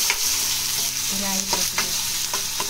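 Onion poha tempering sizzles in a pan, a dense steady hiss of frying broken by a few short stirring scrapes close up.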